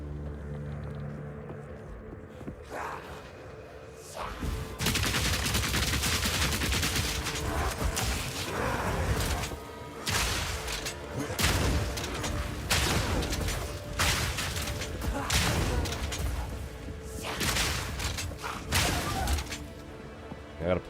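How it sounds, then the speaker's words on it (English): Heated grenades fired in Path of Exile 2, heard as dense bursts of rapid gunfire-like blasts and crashing impacts that repeat in loud clusters through the clip after a quieter opening. "You can heat the grenades up and then shoot them."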